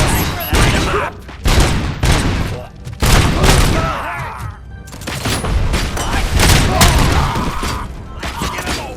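Heavy gunfire in the RoboCop Rogue City video game: dense, loud bursts and booms that run almost continuously, with sharp impacts and shattering mixed in and brief shouted voices underneath.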